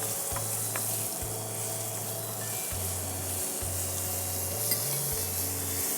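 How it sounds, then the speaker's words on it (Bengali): Garlic paste and onion sizzle together in a pan, a close, steady frying hiss broken by repeated scraping strokes as the mixture is stirred, with a low hum underneath and no talk. "রসুনটা একটু কষিয়ে নেই, কাঁচা তো, একটু কষিয়ে নিলে পেঁয়াজের সাথে রসুনের কাঁচা গন্ধটা চলে যাবে।"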